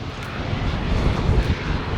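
Airplane near Fuerteventura airport, a steady loud broadband engine roar and rumble, close and continuous, with no talking.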